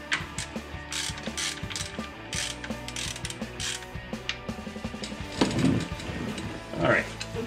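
A hand ratchet clicks steadily while turning a 30 mm socket during a transfer case install on a 1980s GMC square body pickup, with repeated close, sharp clicks and some shop clatter.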